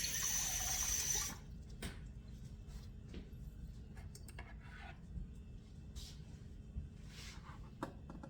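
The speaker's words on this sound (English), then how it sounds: "We're going to add cold water. Never use hot water." Cold tap water gushes loudly into a container for about a second, then cuts off, leaving a quiet room with a few faint knocks and clicks.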